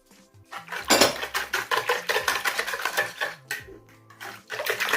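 An egg and sugar mixture is whisked in a bowl for Armenian Easter sweet bread, with rapid rhythmic metal scraping and clinking against the bowl in bursts and short pauses, loud and close.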